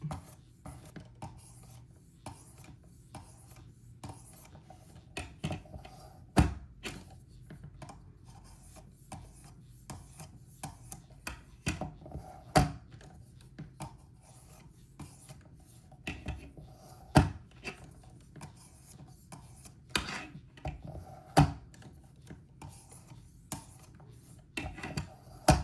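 A pocket knife is worked on a sharpening stone, producing quiet repeated rasping strokes and scattered sharp clicks and taps at an uneven pace, close up and with no talk.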